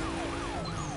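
Police car siren in Need for Speed Most Wanted, wailing in repeated rising and falling sweeps over a steady in-game engine drone, loud and close through the whole second.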